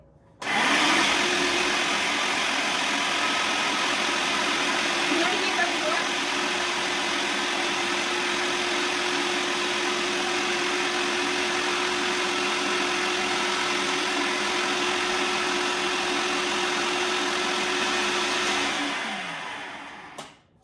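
A food processor whirs at a steady, loud pitch for nearly twenty seconds while mixing homemade pasta dough from flour, olive oil and salt, then winds down and stops.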